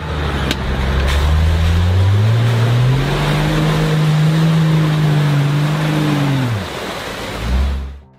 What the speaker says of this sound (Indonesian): Di sini ada mobil jeep.